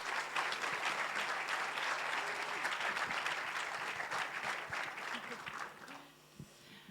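An audience at a closing ceremony claps in a dense, sustained burst that gradually thins and fades out near the end.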